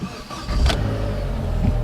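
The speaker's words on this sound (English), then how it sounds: "We're going to do a first startup." A Vauxhall Corsa E VXR with extreme engine damage is started: a short crank, then the engine catches and settles into a loud, close, steady idle.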